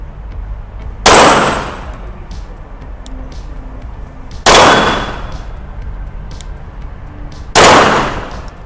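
Three pistol shots from a Rock Island Armory STK 100 ring out on steel targets at an outdoor shooting range, each a sharp loud crack with a ringing clang, spaced about three seconds apart over steady background noise.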